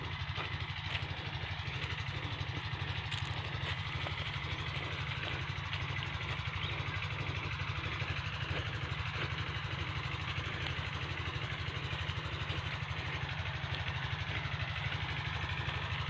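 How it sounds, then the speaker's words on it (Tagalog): A diesel engine drives an irrigation water pump on a farm with maize fields, running at a steady idle with a constant low throb and mechanical hum throughout, close and unbroken, with no talk. "Sisilipin natin ang ating makina kung baka maubos na yung krudo."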